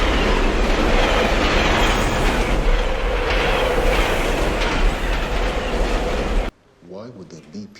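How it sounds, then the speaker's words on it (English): A subway train roars loudly and steadily along the rails with a rumbling, clattering rush that cuts off abruptly, followed by a short stretch of quiet talking. "There's a train coming."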